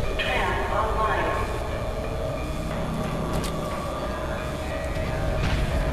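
A tram starts up in the F.E.A.R. 2 video game, a steady rumbling rail drone with metallic creaks and clanks, accompanied by speech.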